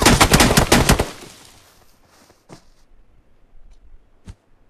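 Rapid bursts of gunfire in a shooting video game, a loud fast volley in the first second that fades out, followed by two isolated single shots.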